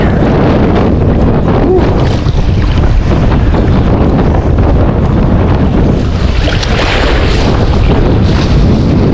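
Strong wind gusts roar steadily across the microphone outdoors by the water in Taiwan during fishing, a loud continuous rumble with no voices heard.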